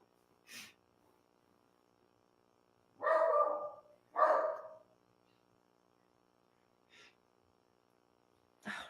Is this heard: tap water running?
no